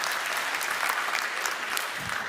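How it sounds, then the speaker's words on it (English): A crowd at a political event claps steadily, with continuous applause at a moderate level and no talk over it. "You hear people clapping?"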